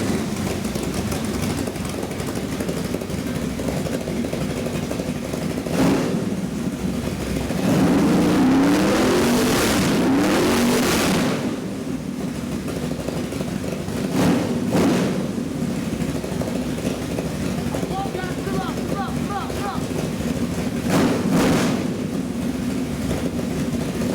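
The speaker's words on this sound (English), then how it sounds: "I'd like to fire this up and give you a little run demonstration." A custom-built Chevy 502 big block crate engine runs on a stand, loud and steady with a lumpy rapping idle and a few sharp blips of revving throughout, no voices.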